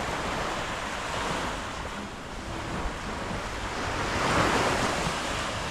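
Ocean surf rolls in at Hua Hin's main beach in Thailand as a steady, broad wash of waves, mixed with gusty wind noise buffeting the microphone and swelling slightly toward the end.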